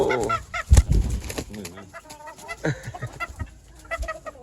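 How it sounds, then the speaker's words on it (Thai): Jungle fowl cluck close by in short, irregular bursts, with soft rustling in between. "ไก่สวยงาม"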